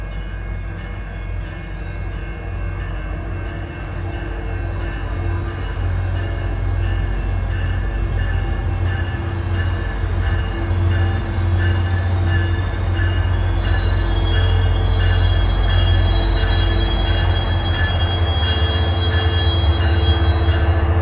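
A Caltrain MP36 diesel locomotive rumbles loudly and continuously past, deep engine drone mixed with rattling rail cars and occasional wheel squeal.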